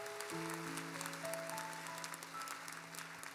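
A church congregation at an early-morning prayer service applauds in praise, a dense, even patter of many hands, moderately distant, while sustained tones from an organ or keyboard hold underneath.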